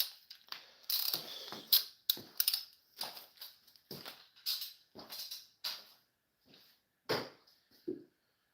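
A ratchet with a 3/4 inch socket clicks on an ARP crank bolt during Ford Focus ST timing chain work, giving about a dozen close, sharp bursts of rapid pawl clicks separated by short pauses.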